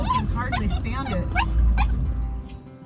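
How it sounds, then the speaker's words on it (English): An excited dog whines and yips in high, wavering cries, several short rising whimpers close by over a low rumbling background. "That dog was singing and crying the whole way up here because he was so excited."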